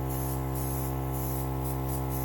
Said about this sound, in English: So I'm going to go ahead and spray a tissue, make sure the color is coming out properly